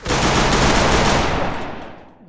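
Dense burst of rapid automatic gunfire from the Free Fire video game, loud and close, lasting about two seconds before trailing off.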